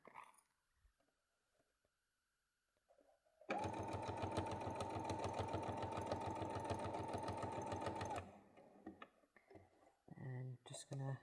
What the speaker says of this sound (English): all we're doing is sewing all the way around this rectangle